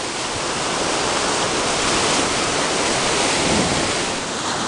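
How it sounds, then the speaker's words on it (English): Fast river rapids rush and roar in a dense, continuous wash of white noise. The water is loud and close, it keeps going without a break, and no voices are heard over it. "We are at the river. And it's really rapidy."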